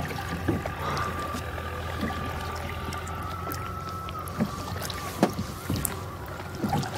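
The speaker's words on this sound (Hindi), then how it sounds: "कोई नाव हिला रहा भाई" A boat rocks on a river at night, giving soft water slaps and creaks in irregular bursts, fairly faint against quiet outdoor background.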